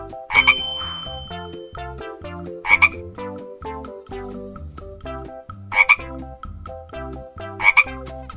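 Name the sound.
frog croaking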